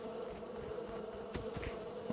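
A video-game swarm of bees buzzing continuously, a steady low drone with a few louder passes, fairly faint and heard alone without talk.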